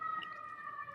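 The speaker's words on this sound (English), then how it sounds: "sorry for those sirens out there" Emergency vehicle sirens wail outdoors in Chicago, a sustained high tonal sound at moderate distance heard alone for a moment.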